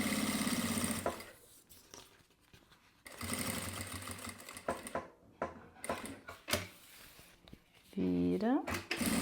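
Near sewing machine stitching a fabric panel runs in several short whirring bursts broken by pauses, with a voice talking between stretches of sewing.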